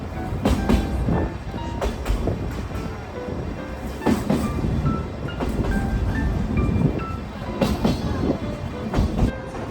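A sightseeing trolley train on the Sagano Scenic Railway near Arashiyama, Japan, rumbles along the rails with rhythmic clickety-clack of wheels over joints and occasional metallic squeals, steady and fairly close.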